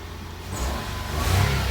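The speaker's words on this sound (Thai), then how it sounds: "เดี๋ยวเราทำการสตาร์ทดูนะครับ โอเค สตาร์ทเครื่องได้ปกตินะครับ" A Nissan March engine starts and runs after a spark plug change, rising into a loud, steady rev close by, with no talking.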